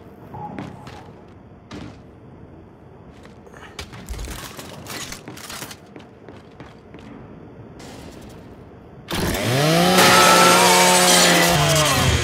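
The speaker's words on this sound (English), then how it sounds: "scrap that custodial unit for me. Just use your Lancer's chainsaw." A Lancer rifle's chainsaw bayonet revs up and grinds into a custodial robot in Gears of War 5, a sudden loud buzzing whine after scattered mechanical clanks and thuds, rising and sustained to the end.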